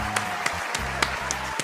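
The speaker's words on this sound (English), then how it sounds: "I give it a clap." A few slow, separate hand claps, about six in under two seconds, light and close over a low background hum.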